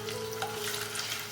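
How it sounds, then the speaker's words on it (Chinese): Shiitake mushrooms and ginger slices stir-fry in hot oil, giving a brief, faint, steady sizzle with light scraping of stirring and a faint tonal hum underneath. "把香菇跟姜片爆香"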